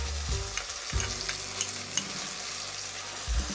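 Tomato pieces, ginger paste and cumin powder sizzle steadily in a pan while being stirred, with a few louder scrapes and knocks of the spoon against the pan over continuous frying.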